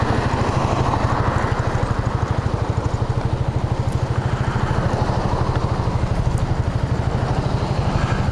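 Motorcycle ridden on a nice day on the way home from a rider training class, its engine a steady loud rhythmic putter throughout with wind rush, no voices.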